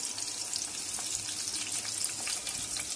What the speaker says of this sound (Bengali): তাহলে টমেটো ভাজা হচ্ছে।